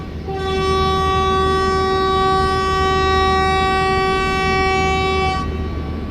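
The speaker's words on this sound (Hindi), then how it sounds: "ट्रेन का डिपार्चर विसिल हो चुका है" A long, steady train whistle sounds for the Shalimar Express departure, a loud tonal blast that holds for about five seconds over rumbling background noise before cutting off.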